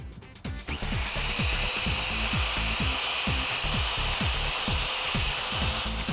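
A headlight is wet-sanded with sandpaper from a restoration kit, a loud, steady whirring grind with a rapid rhythmic pulsing underneath that runs continuously after a brief start-up.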